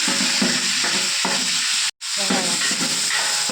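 Curry leaves crackle and spit in hot oil in a pan, a dense, steady sizzle close by that breaks off for a split second before resuming just as strongly.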